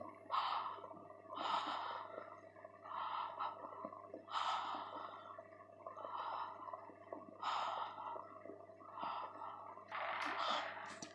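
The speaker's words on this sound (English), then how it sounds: "Then you have to open your mouth, inhale and exhale orally." Deliberate breathing in and out through the open mouth during a guided breathing exercise, about eight slow breath cycles in a steady rhythm, close and fairly soft.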